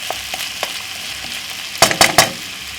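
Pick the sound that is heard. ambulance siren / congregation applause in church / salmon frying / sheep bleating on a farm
salmon frying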